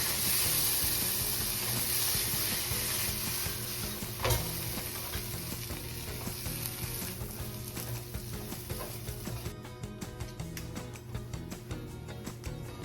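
Dabeli masala mixed with tamarind chutney is stirred in a hot pan, giving a steady close sizzle and hiss with scraping stir strokes throughout, and no voices.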